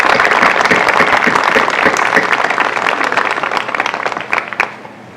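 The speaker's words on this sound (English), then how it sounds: "Let's give our REACH scholars a big round of applause." An audience at a school scholarship signing day ceremony claps loudly and continuously, full dense applause that thins and fades out over the last second.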